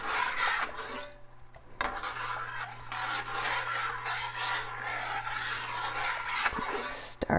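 Steady rasping scrape of a spoon stirring a thickening mixture in a pot, continuous and close, with brief pauses.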